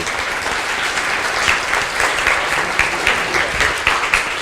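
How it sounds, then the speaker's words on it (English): Steady audience applause at an awards luncheon honoring two authors for their new book, a dense wash of many hands clapping throughout with no voices over it. "One more round of applause for those 2."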